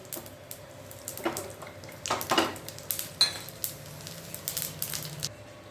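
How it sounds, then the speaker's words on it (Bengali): Mustard seeds frying in ghee in a frying pan, with quiet spitting and crackle under scattered clinks and scrapes of a utensil against the pan, close and fairly soft. "এবার আমি সর্ষেটা ফোড়নে দিয়ে দিচ্ছি"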